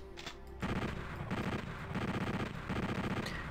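Rapid machine-gun fire rattles in steady repeated bursts in the PlayStation version of Final Doom in a quarry level, dense and fairly loud throughout the short stretch.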